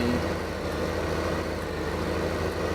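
A tractor engine idles in Farming Simulator 2015, a steady low diesel rumble with an even, unbroken drone throughout, fairly loud and alone with no talk.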